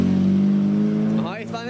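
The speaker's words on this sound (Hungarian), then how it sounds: "Jönnek egymás után a régi kocsik." Vintage oldtimer cars rolling past one after another on a road, a steady engine drone that fades near the end, with people talking over it.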